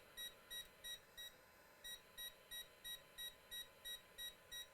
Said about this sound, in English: You see our NF.short is beeping to indicate that we have a short.